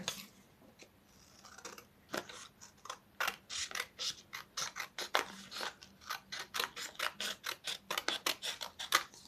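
Scissors snipping through strips of paper, a rapid run of crisp, close cuts that speeds into a steady rhythmic series of blade clicks with no talking.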